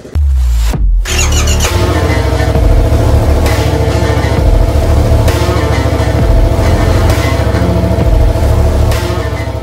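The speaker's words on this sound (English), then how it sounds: "I'm going to explain why this Honda Trail 90 is idling perfectly right now" A Honda CT Trail 90 motorcycle engine idles loud and close after a brief dropout, settling into a steady, even putter that holds for several seconds with no talking.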